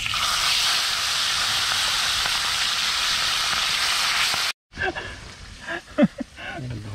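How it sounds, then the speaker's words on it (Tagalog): Loud, steady hiss of food frying in oil, cutting off abruptly to quieter clattering and a few brief knocks. "habang nagpiprito tayo doon"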